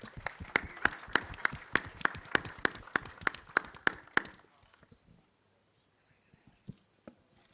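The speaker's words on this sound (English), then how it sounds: "A big round of applause." Rhythmic clapping from a small audience at a film trailer launch for Action Jackson, steady sharp claps for about four seconds, then fading into quiet room noise with a few scattered taps.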